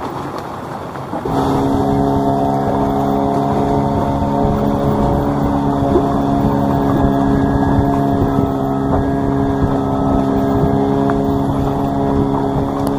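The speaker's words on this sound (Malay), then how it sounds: "Bagan ini ditarik dengan bot itu sampai menuju pertengahan itu." Steady motorboat engine drone as a boat tows a bagan fishing platform at sea, starting abruptly then holding a loud, constant tonal hum with no talk.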